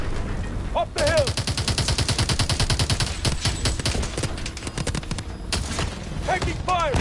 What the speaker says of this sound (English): Taking fire from the left.